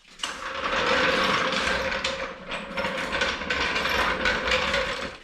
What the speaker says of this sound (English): So I'm going to jack this up.